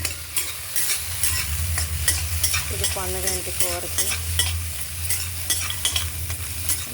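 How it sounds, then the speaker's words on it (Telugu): Tempering sizzles and fries in a pan for a ponnaganti greens curry, with a steady, continuous crackle under a voice speaking briefly. "పోపు అంతా ఇందులో వేస్తాను."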